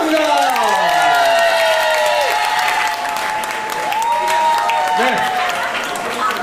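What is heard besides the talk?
audience applause at a salsa anniversary party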